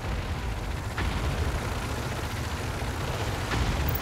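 Muffled battlefield explosions and gunfire from the video game Tom Clancy's EndWar at a refinery compound: a low rumbling din with a couple of sharp distant bursts, moderately quiet and without speech.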